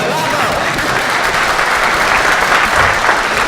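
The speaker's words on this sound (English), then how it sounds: "You need some applause for that" Applause from the audience at a water forum on managing groundwater during drought, a dense, steady wash of many hands clapping at close range throughout, with no clear talk over it.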